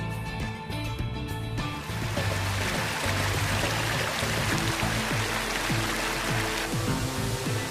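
Waterfall on the northern hiking trail of Mount Binaya in Manusela park, a continuous broadband rush of falling water, close and steady, with faint music-like tones underneath at the start.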